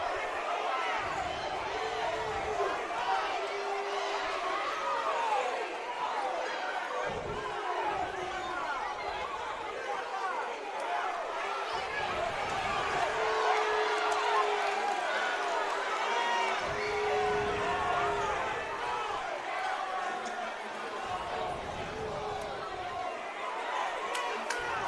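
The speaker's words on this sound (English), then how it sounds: "Well, you can hear the crowd. They're not happy." Crowd at a girls' area basketball game, Newcastle vs Carl Albert, a steady murmur of voices and shuffling fills the gym, with occasional ball bounces and footsteps, no clear boos standing out.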